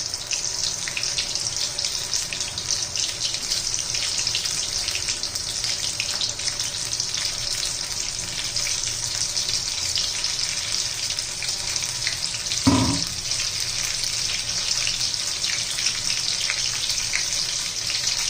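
Ridge gourd fritters (ghosalyachi bhaji) frying in oil over a medium gas flame, a steady, close, even sizzle throughout with one brief knock partway through.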